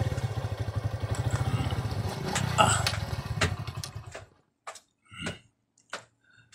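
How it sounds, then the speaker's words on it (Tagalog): A motorcycle engine idles close by with a rapid, even putter for about four seconds, then cuts off, leaving a few sparse clicks and knocks. "Sarden ko ti motor."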